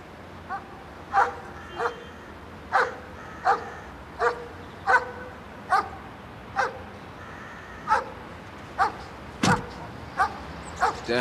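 A dog barks in short, regular yips about once a second, mixed with whimpers, close and fairly loud over a quiet background, with no talking.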